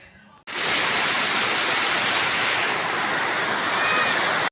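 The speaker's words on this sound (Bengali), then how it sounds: "আবার টিনের চালে বৃষ্টির শব্দ" Heavy rain drumming on a tin roof, starting abruptly after a brief quiet moment and then holding as a loud, dense, steady hiss and patter right to the end.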